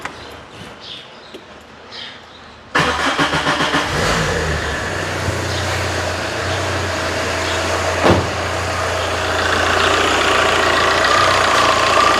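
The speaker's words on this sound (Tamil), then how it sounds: "முதல்ல வண்டியை ஸ்டார்ட் பண்ணி பார்ப்போம்" A cheap used car's engine cranks and catches about a third of the way in, then settles into a steady, close idle that runs continuously to the end, with no talking.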